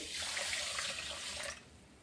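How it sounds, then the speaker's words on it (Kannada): Water pours steadily from a cup-sized bowl onto sugar for Motichoor laddu syrup, a close, continuous splashing stream that stops abruptly near the end. "ಒಂದು ಕಪ್ ಬೌಲ್ನಿಂದ ಒಂದು ಕಪ್ ನೀರು ಹಾಕ್ತೀನಿ ನೋಡ್ರಿ"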